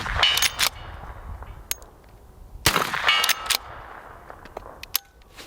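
Gunfire from a Rossi lever-action rifle fitted with Midwest Industries parts, sharp loud cracks in two short clusters with echoing tails and fainter metallic clicks between them.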